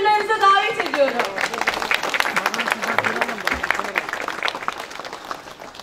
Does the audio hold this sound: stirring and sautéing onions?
no